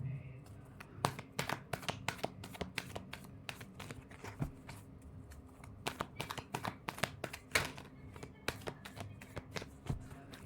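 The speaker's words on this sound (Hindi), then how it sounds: "last shuffle" Tarot cards being shuffled by hand in a quiet room: a series of crisp, quick riffling and tapping bursts, close and fairly faint, repeating irregularly throughout.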